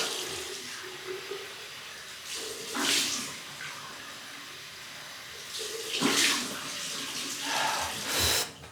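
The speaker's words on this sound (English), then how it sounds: "Cold water rinse." Cold water runs from a bathroom tap for a rinse while wet-shaving with a Muhle Rocca safety razor, several short bursts of splashing flow between quieter pauses, close by.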